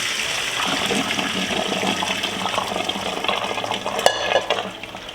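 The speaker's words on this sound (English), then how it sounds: "Once you're fully confident that it's ready, turn off the heat and strain." Water draining as cooked lentils are strained, a steady rushing pour that tapers off, with a brief metallic clink of the strainer near the end.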